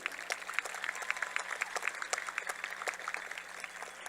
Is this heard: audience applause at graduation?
yes